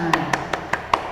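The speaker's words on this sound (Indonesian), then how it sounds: "Oke, tepuk tangan buat semuanya." A primary school class claps in five evenly spaced, sharp beats, close and fairly loud with a slight room echo.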